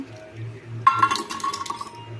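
Jackfruit seeds tumble into a metal cooking pot with a sudden cluster of close, bright clinks and clatters after a quiet start, a low steady hum running underneath.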